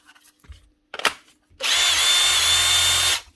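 Makita impact driver running after repair in a workshop: a few clicks and taps, a brief buzzing burst, then one sustained, loud, high-pitched whir for about a second and a half before stopping.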